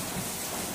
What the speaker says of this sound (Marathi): बघ आता पाऊस पडतोय मस्तपैकी